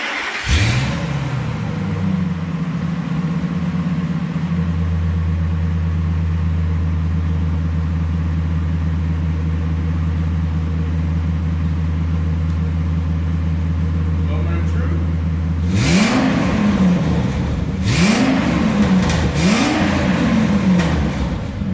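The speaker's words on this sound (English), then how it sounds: "it's a true straight pipe now, straight to the muffler, which I think is gonna sound good" A Ford Excursion with a straight-piped exhaust idles with a deep, steady rumble, then revs three times in quick succession, each rev rising and falling in pitch, close and loud.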